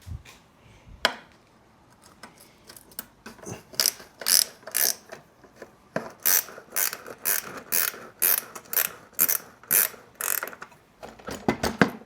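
A hand ratchet works a bolt loose on a GSXR1000 motorcycle undertray, giving rapid bursts of close, crisp clicking in repeated strokes with short pauses between them and no talk.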